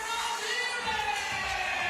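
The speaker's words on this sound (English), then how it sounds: "you can hear the crowd getting crazy." A large arena crowd at a FIBA 3x3 basketball game in Manila, its roar sustained and swelling at a distance, with a commentator's voice over it.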